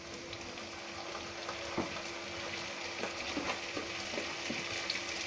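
Onions browning in oil with a spoonful of garlic paste added, giving a steady sizzle and crackle with occasional stirring scrapes, for an egg biryani.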